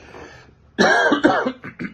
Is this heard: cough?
yes